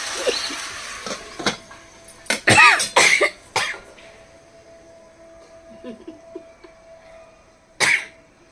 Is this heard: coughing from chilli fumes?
yes